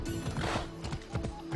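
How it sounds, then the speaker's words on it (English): A horse trots through a village in Assassin's Creed Odyssey, its hooves clopping in an even, moderate rhythm close by, with no talking. "Look, we're only in a little village, and it goes down to a trot."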